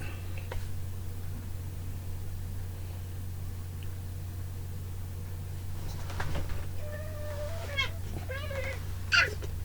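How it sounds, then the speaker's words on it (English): A cat meows several times in a row indoors, the calls fairly close and rising over a steady low hum. "It's the cat."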